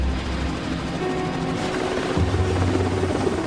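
A Sea King military helicopter drones steadily with a low, thrumming engine hum and a faint high whine, holding constant throughout.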